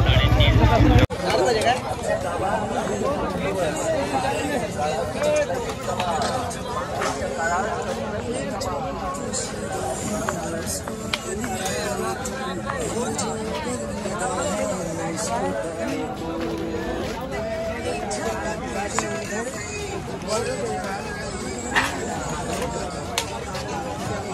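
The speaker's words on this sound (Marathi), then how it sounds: "आणि आजचा जवळजवळ पहिलाच दिवस आहे तरी पण खूप गर्दी आहे" A dense crowd fills an open-air fair and cattle market at Mhasa in Murbad, Thane district, with a steady babble of many voices, near and far, and a voice speaking close by.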